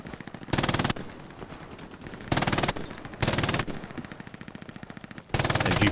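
An MG42 machine gun fires in the video game Hell Let Loose on the El Alamein map, with several rapid sustained bursts, each under a second long, cutting through steadier background battle noise with no talking.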